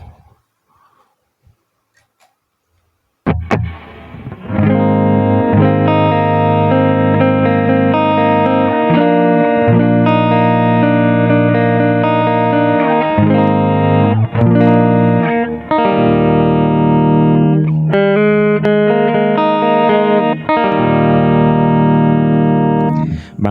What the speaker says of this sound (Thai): เอฟเฟกเสียงแตกครับ